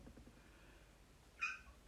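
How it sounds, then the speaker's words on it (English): A house cat lets out one short meow in a quiet room after a stretch of soft background murmur, fairly close but not loud. "Cat wants to join in."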